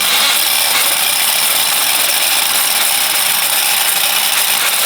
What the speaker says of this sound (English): But we gotta drill through this heavy steel right now